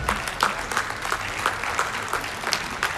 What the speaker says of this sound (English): your clapping should be dramatic